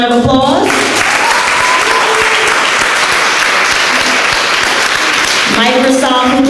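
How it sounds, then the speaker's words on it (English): A full audience applauds the funding partner Get in Chicago at a 2016 North Lawndale youth tech program graduation, steady loud clapping filling several seconds, with a speaking voice briefly at the start and again as it fades. "Let's give them a round of applause."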